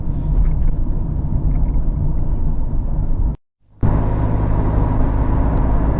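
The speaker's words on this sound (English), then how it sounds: "right now I'm on the highway, but you're gonna hear a lot of road noise" Constant low rumbling road noise inside a MKIV Toyota Supra with a T56 manual swap cruising on the highway, loud and steady, broken by one brief total dropout partway through.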